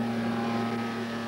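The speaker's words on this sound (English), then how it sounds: "the V6, triggered by its computer, sounds like a racer for the first time." A turbo V6 engine idles with an even, droning hum, holding constant for a brief moment.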